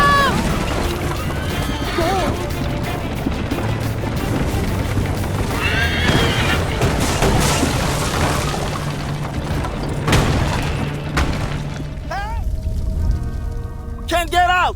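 A horse whinnies amid a chaotic action scene in the video game Assassin's Creed: Liberation, with booms, crashes and hoofbeats under loud shouting voices, and sharp high neighs near the end.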